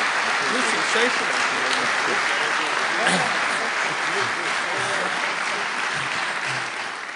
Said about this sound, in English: Now that sounds like you're clapping for me when it dies down.